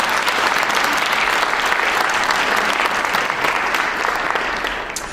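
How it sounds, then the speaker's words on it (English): Sustained, loud applause from a crowd at a civic ribbon-cutting anniversary event, steady and dense for several seconds before tapering slightly at the end. "could you give them a round of applause?"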